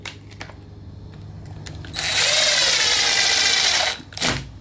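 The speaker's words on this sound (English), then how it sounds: "Then we want to put the screw that it came with, and you can drill that into position." A power drill whirs loudly and steadily for about two seconds, then winds down, with a short mechanical burst just after.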